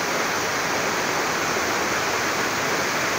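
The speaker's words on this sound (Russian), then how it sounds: "каскадный такой водопад" A cascading waterfall on a mountain trail in the upper Uzunzhar falls area gives a steady, close, full rushing roar of water that holds unbroken throughout.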